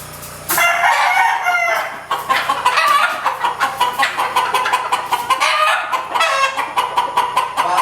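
A gamefowl stag rooster crows loudly and close, then breaks into a run of rapid, rhythmic clucks that continue to the end, with no voices over it.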